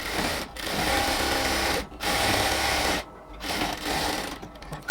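A sewing machine runs stitching cotton salwar fabric in a steady, close, loud whir, pausing briefly three times before starting up again.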